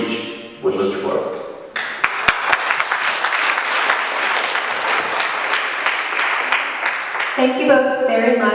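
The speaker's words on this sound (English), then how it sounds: "how about all of you give another round of applause for our two" A live audience bursts into sustained, dense applause after a teacher debate, loud and steady for several seconds, with a sharp thump near the start and speech before and after the clapping.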